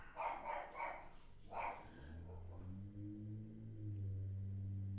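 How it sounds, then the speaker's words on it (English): A dog barks excitedly downstairs in a house, giving a few muffled barks at the start before a low steady hum takes over. "And you guys probably hear my dog Zoe going nuts downstairs."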